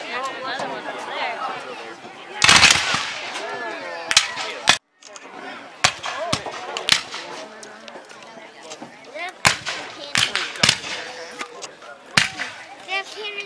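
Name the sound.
cannon and gunfire at battle reenactment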